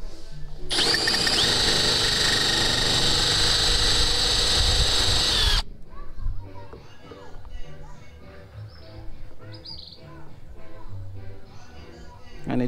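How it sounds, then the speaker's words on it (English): A power drill whines steadily for about five seconds as it bores into a sacrificial wooden board, then cuts out, leaving handling clatter and someone talking. "I need a sacrificial board because I don't want to drill into my table"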